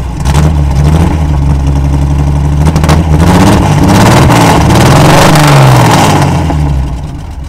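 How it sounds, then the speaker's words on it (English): Loud, throaty 1964 Chevy C10 engine, a Chevrolet 230 straight six with glass pack exhaust and dual exit headers, revving up and down close by, rumbling exhaust rising through several pulls before easing off at the end. "it's a Chevrolet 230 straight six."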